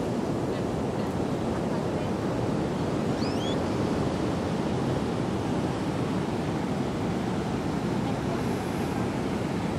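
Caribbean Sea waves washing ashore at Tayrona Park near Santa Marta, Colombia, a steady loud roar of surf mixed with wind noise on the microphone, no speech.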